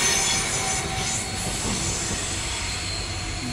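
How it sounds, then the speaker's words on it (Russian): A double-decker train in Winterthur, Switzerland rolls past close by, a steady loud rumble of rail cars with wheel noise and faint squealing throughout. "Двухэтажные поезда, видите, да?"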